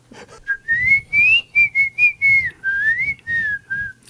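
A woman whistles a clear, bright melody up close, a string of sustained and gliding notes with short breaths between phrases.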